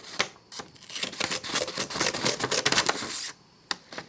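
Crisp snipping and rustling of small Zanmax multitool scissors cutting through paper, a run of quick close cuts with brief pauses at the start and end.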